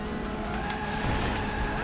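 A car drifts in the racing video game Sonic All Stars Racing Transformed, with a continuous engine roar and tire squeal filling the moment, and a voice faintly present underneath.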